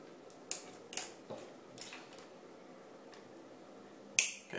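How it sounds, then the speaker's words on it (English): A flat IDC ribbon cable being cut in half, heard as a few soft, scattered snips, then one sharp, louder snip near the end, close up and alone in a quiet room. "we want to grab our IDC cable, and we want to just cut that in half"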